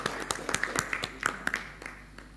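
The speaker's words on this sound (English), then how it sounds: "give a round of applause to three of" Sparse applause from a small workshop audience on energy storage: a handful of separate, uneven claps spaced out over a couple of seconds, thinning toward the end.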